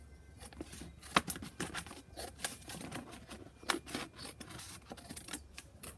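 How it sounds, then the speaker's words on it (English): Scissors trim the edge of a paper plate in a quiet room, giving a run of close, crisp snips and scratchy cuts at an uneven pace. "I take one of the plates and I'm just going to trim off"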